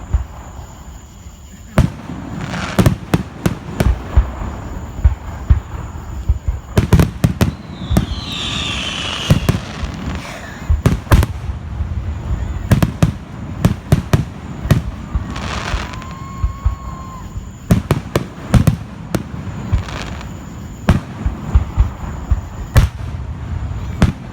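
Fourth of July fireworks bursting outdoors, sharp bangs and crackling reports scattered irregularly across the whole stretch, some close and loud, others softer, with occasional whistling rockets rising between the blasts.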